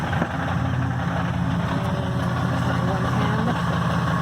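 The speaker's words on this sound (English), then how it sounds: "I apologize for the noisy transmission, it's the pilot bearing" A turbocharged 4.0 V6 Mustang with a GT transmission on an adapter idles with a steady, dense rumble, joined by whining rattle from a worn pilot bearing. The drone is loud and continuous, and a voice talks over it.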